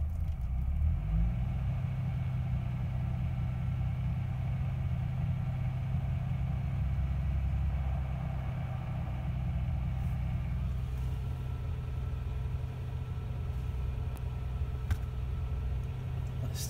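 A car engine idles steadily throughout a test of a solid-state conversion of a Lucas RB.310 regulator, a low, even rumble with no speech and no change in speed.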